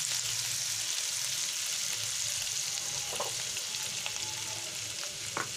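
Ginger fries in a pan for a Bengali lau chingri dish, giving a steady, moderately loud sizzle throughout with a few short scraping stirs near the end.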